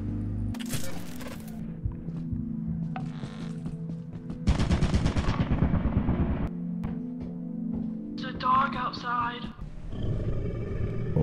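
Turrets fire bursts of rapid gunfire in the video game Lethal Company, with loud rattling volleys and other game noises under excited voices talking throughout.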